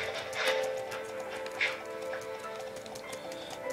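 Horse hooves clip-clopping in the physics video game CLOP, a few light, uneven taps against a steady background hum, fairly faint.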